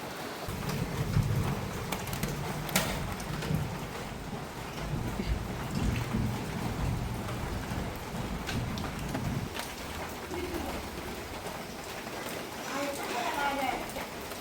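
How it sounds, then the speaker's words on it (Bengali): Heavy rain pours steadily throughout on a morning before school, a continuous dense hiss with occasional low rumbles, while people talk intermittently over it. "মুষলধারায় বৃষ্টি হচ্ছে, প্রচণ্ড বৃষ্টি"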